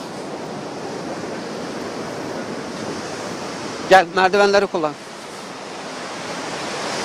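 Sea waves roar and wash in a steady broad rush along the Mersin shore during a heavy rainstorm, with someone briefly speaking over it midway.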